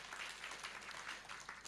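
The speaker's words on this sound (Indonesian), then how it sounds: "Yang percaya berikan tepuk tangan buat Allah kita." A church congregation claps in praise during a sermon, a brief burst of faint, rhythmic applause heard from a distance.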